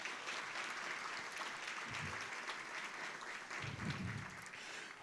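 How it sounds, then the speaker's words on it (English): A full audience applauds at a legacy scholarship event, a continuous, even roar of many clapping hands that holds steady for several seconds with a few faint low murmurs beneath. "So give those folks a big round of applause."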